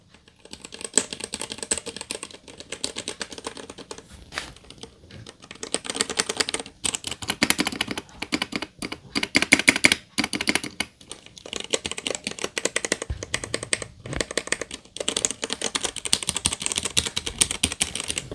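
Rapid, clicky keystrokes on a Ducky One 3 SF 65% mechanical keyboard patter continuously at close range, with uneven bursts and brief pauses.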